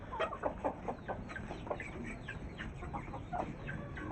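A hen clucks softly while eating, with a run of short, close, repeated clucks and pecking sounds over a low background hum.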